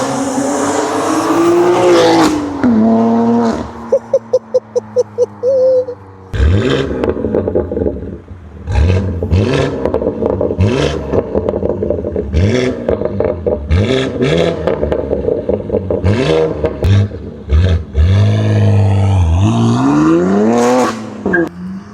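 BMW G80 M3 with an IRL 4-inch modular midpipe, its exhaust barking through loud, rapid blips and long revs, with crackling pops between bursts and a final rising wail, close to the car and with no talking.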